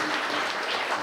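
Audience applause at a church gathering for the inauguration of a shrine to Our Lady of Lourdes, heard as a brief, dense, steady wash of many hands clapping together.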